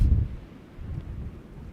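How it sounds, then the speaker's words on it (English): Strong wind buffets the microphone on a mountain saddle near the summit of Mount Antero in Colorado, a loud low rumbling gust at the start easing into ongoing blustery noise. "It's super windy up here"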